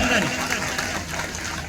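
A crowd claps steadily and densely to welcome MP Manoj Tiwari at a Maharana Pratap Jayanti celebration in Sonia Vihar, the applause running throughout beneath an amplified voice.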